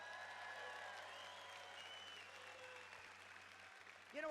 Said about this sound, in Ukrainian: Ви якось слабо аплодуєте, але я змирюся.